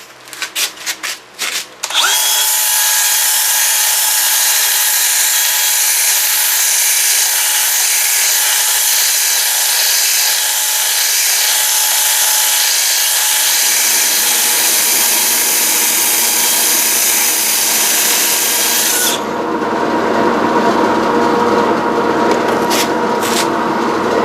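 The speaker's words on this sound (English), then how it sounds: "I've got to sand it down to 400." A handheld power sander with a 3-inch pad works over a mesquite burl bowl, a loud continuous whirring grind after a few brief starts, the pitch and texture shifting midway and again near the end.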